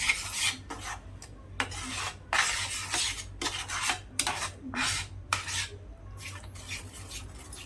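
Red chutney being stirred and mixed by hand in a bowl, with red chilli powder for colour, giving repeated scraping, rubbing strokes in irregular bursts, close and moderately loud with no talking.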